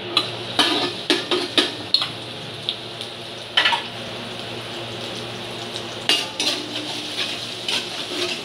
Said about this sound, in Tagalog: nagpapainit na po tayo ng mantika sa kawali at igisa na natin yung bawang